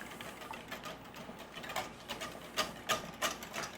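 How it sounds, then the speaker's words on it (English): A whisk beats egg batter for blueberry scones in a bowl, a fast, irregular clatter of metal against the bowl that grows louder and more rhythmic toward the end, with no voices. "So let's get this whisked up."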